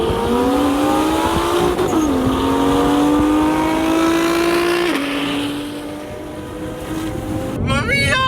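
A tuned Nissan GT-R at a car meet revs loudly and close, its engine note climbing and holding in long sustained pulls, with wind buffeting the microphone and a sharp higher-pitched burst near the end.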